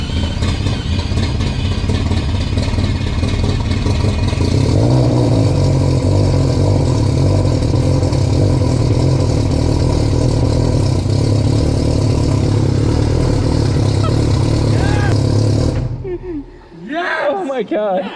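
An all-wheel-drive four-rotor Mazda RX-7 engine roars loudly and continuously at close range, holding a rough, busy note that cuts off near the end, followed by excited voices.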